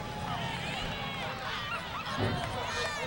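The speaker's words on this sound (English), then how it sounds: "Did you hear the crowd just erupt?" Spectators at a high school football game roar and cheer in a dense, sustained wash of crowd noise, with a commentator talking over it throughout.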